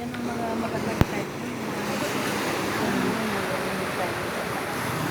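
Strong ocean surf rolls in at Sabang surfing beach in Baler, a steady broad wash of breaking waves with wind buffeting the microphone and one sharp knock early on.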